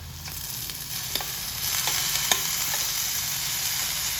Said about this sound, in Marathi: आपण ही शिजलेली भाजी आता ह्याच्यामध्ये टाकू